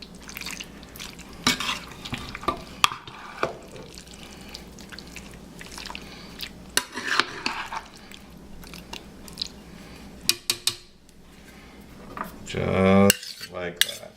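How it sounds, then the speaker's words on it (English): Sausage, beans and onion stirred in a pan, with scattered utensil clinks and scrapes against the metal, soft wet movement and a brief louder clatter near the end. "Just mix your sausage and beans and onion"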